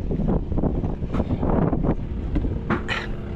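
Loud, steady wind buffets the microphone with a heavy rumble, and gusts rise and fall throughout, at sea by a large boat off an island.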